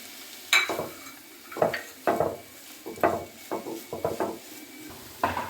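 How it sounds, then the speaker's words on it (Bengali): Cabbage and other ingredients stirred together in a pan for a quick baked cabbage dish, with close, irregular scraping and clacking strokes of a utensil against the pan, about eight distinct bursts over a low background. "আমি সবগুলো একসঙ্গে ভালো করে পাক দিয়ে নেব"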